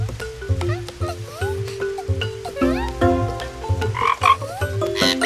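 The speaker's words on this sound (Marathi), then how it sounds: "तूच बेडकाचा आवाज काढलास ना?" Cartoon frog croaks repeat in quick bursts over a playful musical score in a children's animated story, with bright melodic notes and bouncy rhythms around the clear, near croaking.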